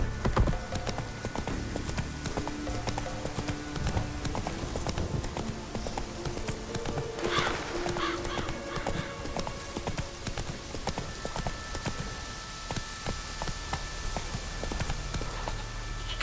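Horse hooves clip-clop at a steady walking rhythm in The Witcher 3 video game, continuous and fairly close, with soft ambient game sound beneath and no talk over them.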